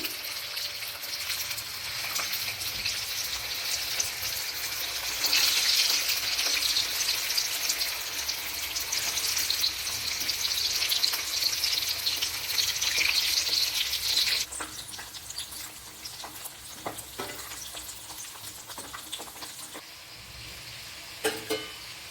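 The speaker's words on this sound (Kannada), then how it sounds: "ಇವಾಗ ನಿಧಾನವಾಗಿ ಎಣ್ಣೆ ಬಿಡ್ತಾ ಇದ್ದೀನಿ" Stuffed aloo matar rolls fry in a pan as oil is slowly drizzled around them, producing a steady crackling sizzle that swells, then softens into lighter spitting and occasional clinks.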